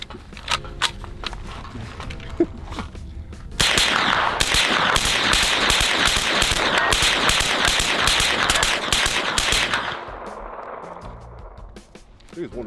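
Police rifles fire in sharp rapid bursts, loud and close, with a single shot at first and then a long sustained volley of cracks before it stops; people talk before the shooting.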